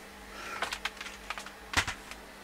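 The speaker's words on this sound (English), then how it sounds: "Got my crappy Trust keyboard." Typing on a cheap, flexing Trust computer keyboard: a dozen or so close, crisp plastic key clicks in short irregular bursts with a louder cluster near the end, over a quiet room hum.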